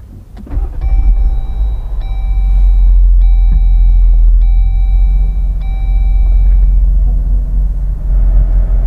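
A Jeep Wrangler JL engine fired with a push-button start, the crank catching into a steady low idle rumble that holds, accompanied by a few faint electronic chimes.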